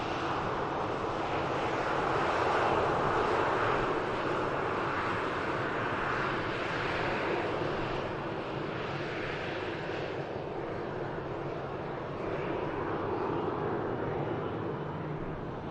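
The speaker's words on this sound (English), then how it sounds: "Here's the Vueling, next aircraft to touchdown." A Vueling airliner arriving from Barcelona touches down at Manchester Airport, its jet engine roar loud and steady throughout, swelling slightly near the start before holding as a continuous broadband rumble.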